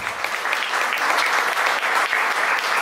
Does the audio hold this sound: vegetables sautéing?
no